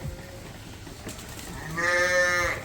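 Sheep and lambs bleating inside a barn during spring feeding, with a single loud wavering bleat near the end rising over quieter background shuffling, no voices.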